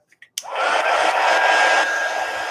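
A hair dryer blows steadily up close over wet burnt umber paint, switching on after a couple of small clicks and holding a loud, even whoosh with a faint high whine to the end.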